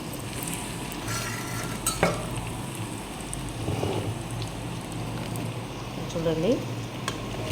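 Okra frying in a pan, a constant dense sizzle with occasional scraping of a spoon stirring it, heard up close while a person speaks briefly.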